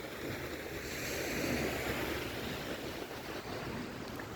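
Sea waves wash onto the shore in a continuous soft surf hiss, swelling gently around the middle, with some wind noise on the microphone and no voices.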